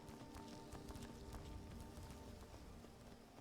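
A horse's hooves clip-clop at a steady trotting rhythm while riding in Skyrim, the repeated hoof strikes continuous and fairly close under a low game soundscape, with no talking.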